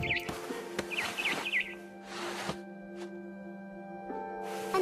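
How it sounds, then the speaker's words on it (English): Barn swallow chirping in the game What Remains of Edith Finch: bright, quick twittering calls in small clusters, close and clear over a steady tonal ambient hum, with a few soft thumps and rustles. "Then I heard chirping outside my window."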